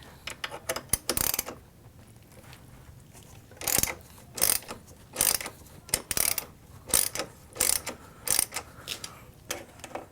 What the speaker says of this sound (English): So I'm gonna go ahead and remove those 2 bolts underneath there for the right foot peg, rear foot peg. I need to use the T40.